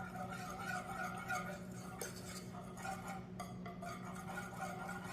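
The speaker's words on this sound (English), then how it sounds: "I'm whisking that together until it's kind of smooth" Whisk scraping through a thick peanut butter mixture in a bowl, a steady close clinking and stirring texture running continuously without talk.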